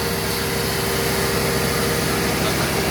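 A 1995 Mercedes-Benz S420 (W140) engine idles steadily and fairly loudly, a constant close-up hum with no voices.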